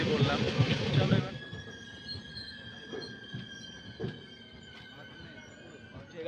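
The 12805 Janambhoomi Express heard from an open carriage door: a loud rush of wheels and wind at first, then sustained high metallic wheel squeal with periodic clanks as the train keeps rolling.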